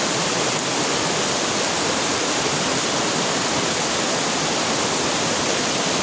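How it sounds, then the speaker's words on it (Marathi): Loud, steady rush of a fast-flowing Konkan mountain stream tumbling over rocks, a continuous broadband roar close by with no breaks. "आता या डोंगर भागातून पाणी येत आहे"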